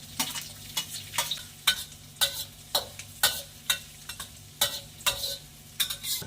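Ginger and onion frying until golden, quiet steady sizzling under a regular rhythm of spatula strokes scraping the pan roughly twice a second, close and unaccompanied by speech.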